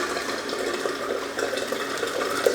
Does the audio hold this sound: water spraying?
yes